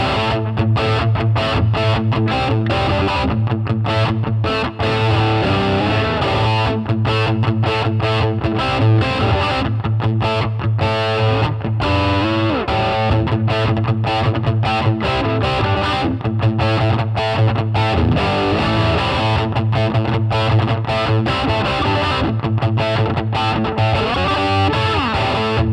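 Electric guitar through a Marshall DSL1CR one-watt amp on the dirty channel, playing heavily distorted, chunky riffs with a steady driving rhythm, loud and alone throughout.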